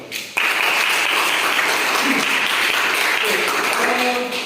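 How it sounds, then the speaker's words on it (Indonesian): Applause bursts out suddenly and holds steady, a dense patter of clapping from a room full of people, with faint talk underneath. "beri tepuk tangan buat mereka"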